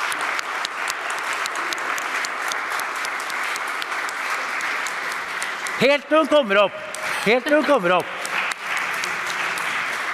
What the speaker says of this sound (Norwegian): Stor applaus!